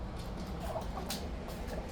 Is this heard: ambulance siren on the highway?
no